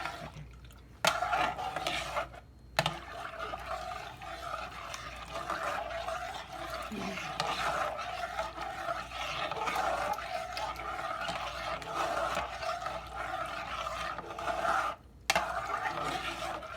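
Chocolate pie filling stirred in a hot, steaming pot, a steady scraping, rasping swirl that runs almost unbroken with a few brief gaps, close and fairly quiet, no voices.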